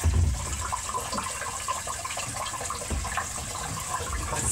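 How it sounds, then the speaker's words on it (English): Water steadily rushes into a toilet tank being filled for the first time after plumbing work, a continuous hissing, gurgling flow heard close with no talk. "I'm now filling the tank for the first time, checking if there's any leaks."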